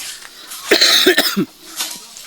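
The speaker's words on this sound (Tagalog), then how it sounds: "naubo ko tungod sa kainit guro sa panahon" A close, harsh burst of coughing, several rapid hacks in a row, followed by a quieter trailing cough.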